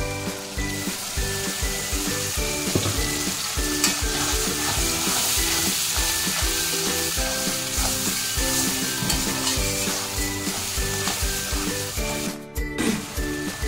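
Garlic and chili paste frying in a pan for chicken kosha, with a steady loud sizzle and repeated stirring scrapes throughout. At the end comes a brief louder clatter.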